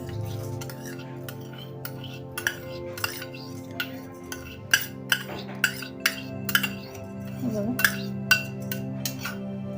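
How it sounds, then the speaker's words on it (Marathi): Soaked rice being added into a mixer jar while making rice kheer, with a run of close, sharp metallic clinks and taps at uneven spacing over a low background drone. "हे भिजवलेले तांदूळ घातले त्याच्यामध्ये"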